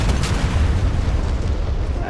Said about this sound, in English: So the bombs are in the air, floating down towards the parking area. And hopefully, we'll get some impacts near.